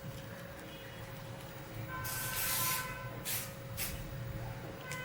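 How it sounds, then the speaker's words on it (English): An aerosol can of art fixative hisses in a couple of short bursts, one longer spray followed by two quick puffs, faint against a quiet room hum. "I'll just go off camera and spray them once or twice"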